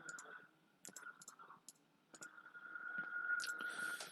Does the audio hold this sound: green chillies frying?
no